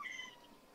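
A pet cat named Norma Jean meows once, a short, faint, high-pitched call that fades quickly into a quiet room.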